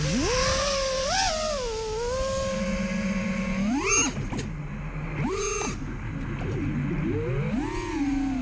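An FPV drone built on a RushFPV Blade F277 flight controller and Sport 50A ESC flies with a close, loud motor whine that swoops sharply up and down in pitch as the throttle changes.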